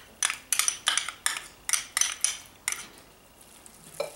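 A spoon stirs funeral potatoes with minced garlic in a Dutch oven, giving a quick run of about ten close scraping clinks against the pot, then a softer rustle as the stirring slows.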